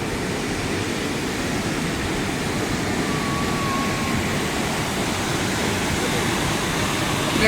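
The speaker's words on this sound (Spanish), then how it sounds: "Se siente el sonido de la caída del agua." The Salto Huilo Huilo waterfall, heard from a viewing walkway with a transparent floor, gives off a loud, steady roar of falling water that never lets up.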